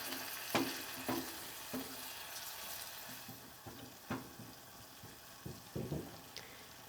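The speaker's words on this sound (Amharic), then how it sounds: "ነጭ ሽንኩርቱ ሲጠበስ የራሱ ጣዕም አለው እና መጠበስ አለበት።" Garlic frying in a pan for Ethiopian telba wot, a soft continuous sizzle with repeated scraping stirs at an uneven rhythm, close and quiet, no voices.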